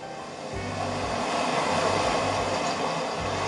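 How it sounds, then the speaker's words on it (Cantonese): Layered sound effect of ocean waves and water washing onto sand: a steady, swelling wash of surf noise with a low rumble underneath, no talking. "一啲水流湧入個沙面嘅聲音啦"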